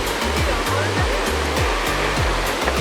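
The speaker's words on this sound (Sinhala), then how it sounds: "මේ තියෙන්නේ ඇල්ල." A waterfall in the Nuwara Eliya area roaring loudly and steadily, a dense continuous rush of falling water heard up close, with a rhythmic low throbbing running underneath.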